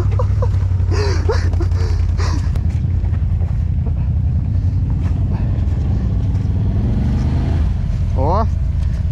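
An off-road vehicle's engine roars loudly and steadily on a gruelling off-road trail as the driver is urged to press the gas, with wind buffeting the microphone and people shouting over it.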